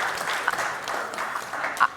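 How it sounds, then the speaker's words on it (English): An audience gives a continuous spread of applause, many hands clapping evenly at moderate volume, with a couple of louder claps or cheers near the end. "So let's give them applause on that one."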